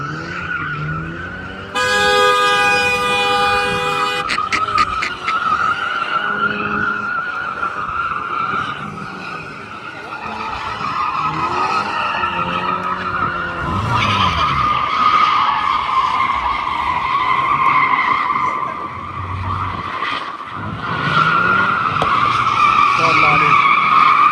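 A BMW G20 with a small engine drifting at a drift event in Egypt, tires skidding and engine droning loudly and continuously, with a horn blast early on and people talking over the noise.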